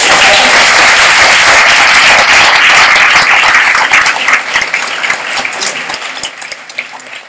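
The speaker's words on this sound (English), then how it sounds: "Round of applause." Audience applause at a Leeds Improvement Method report-out session, loud and dense at first, then thinning into scattered individual claps toward the end.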